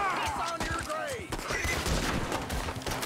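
Gunfire in Red Dead Redemption 2, a rapid flurry of shots packed into a few seconds under shouting voices.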